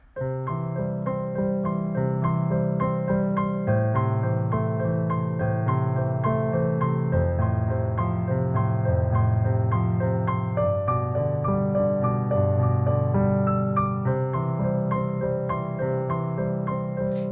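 Fast, steady piano notes alternate back and forth in a continuous rapid pattern, loud and close, with no voices.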